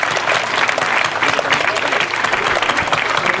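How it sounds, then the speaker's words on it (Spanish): A crowd at a town Día de Reyes event in Loma Bonita gives a strong round of applause, dense fluttering clapping that stays loud and steady for a few seconds. "la señora María del Carmen Escalante Mayo, para quien les pide un fuerte aplauso."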